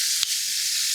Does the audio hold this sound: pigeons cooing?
no